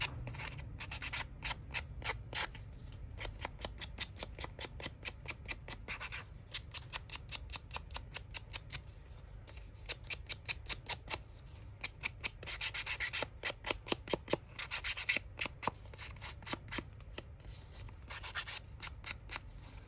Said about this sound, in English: just sand around the edges